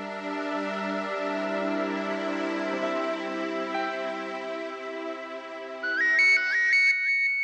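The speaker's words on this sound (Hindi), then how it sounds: "एक मिनट, करण का फोन है" Mobile phone ringtone for an incoming call, a sustained synthetic tone sequence that builds into a repeating melodic chirp near the end, clear and close with no talking.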